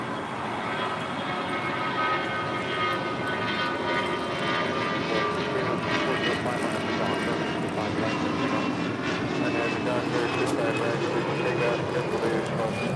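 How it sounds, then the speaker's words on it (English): Delta Airbus A319 departing LAX for San Antonio, a strong jet engine roar that swells and holds steadily, fairly close, with people talking over it at times. "That was Delta 1043 departing to San Antonio, Texas on an A319"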